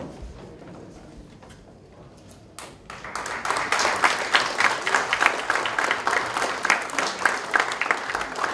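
Applause at an economics award ceremony, beginning with a quiet room and a few scattered claps before a full crowd breaks into sustained, fairly close clapping that holds steady to the end.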